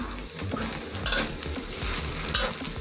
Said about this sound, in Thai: ซอสหอย อันนี้ถ้าใครไม่ชอบกินซอสหอยก็ไม่ต้องใส่ก็ได้นะคะ แต่ดาตีชอบ ส่ใส่ แล้วก็ผัดให้เข้ากัน